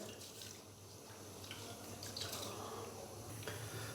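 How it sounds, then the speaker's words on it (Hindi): Running water pours over rice being washed in a kitchen, a faint, continuous splashing trickle with light drips and small shifts of flow. "चावलों को हमने अच्छे से वॉश कर लिया है, 3 से 4 दफ़ा पानी इसके अंदर से गुजार कर"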